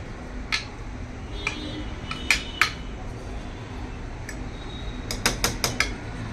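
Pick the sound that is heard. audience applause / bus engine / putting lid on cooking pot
putting lid on cooking pot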